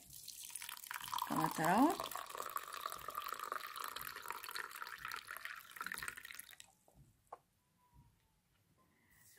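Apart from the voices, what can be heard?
pouring boiling water onto fennel seeds in a cup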